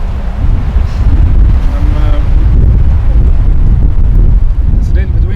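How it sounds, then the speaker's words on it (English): Strong wind buffets the microphone outdoors on a Norwegian perch fishing trip, a loud continuous low rumble that nearly swamps someone talking. "It's a little bit windy. I hope the sound is okay."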